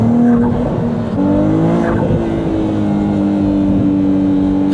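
A V6 car engine revs hard and loud, its pitch climbing and holding in a sustained roar before easing slightly, with no voices over it.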